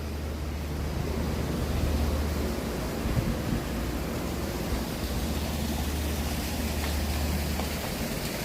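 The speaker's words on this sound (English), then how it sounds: "They got the waterfall." Waterfall in a zoo animal enclosure: a constant broadband roar of falling water with a steady low rumble, heard from nearby with no voices over it.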